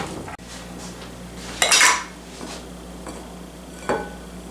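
Utensils clink and scrape against a bowl as cheese and flour are mixed for a ham and cheese quiche, a few sharp metallic strikes separated by quieter scraping.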